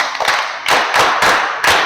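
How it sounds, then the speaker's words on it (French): Children at a storytelling evening clap in close, loud bursts, a dense patter of hands arriving in about four quick waves. "Si vous voulez savoir, applaudissez pour vous-même d'abord."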